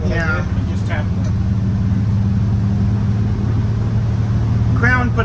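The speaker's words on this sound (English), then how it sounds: "I'm just listening to the engine" A school bus engine runs with a steady, deep, droning hum close by, holding an even pitch throughout while people briefly talk over it at the start and again near the end.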